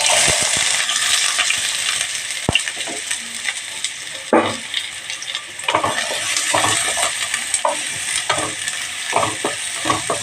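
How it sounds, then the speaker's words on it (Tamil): Two finely chopped onions sizzling in hot oil in a pan, a bright constant hiss broken by clinks and scrapes of stirring, close and loud with no talking. "ரெண்டு வெங்காயம் நல்லா பொடியாக நறுக்கி வச்சுருக்கிறேன். அதையும் இதில் போட்டுடலாம்."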